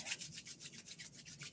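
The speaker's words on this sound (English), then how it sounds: "So let's start by rubbing your hands." Hands rub briskly together during a seated qigong warm-up, a soft rhythmic swishing of about eight even strokes, faint and close with no talking.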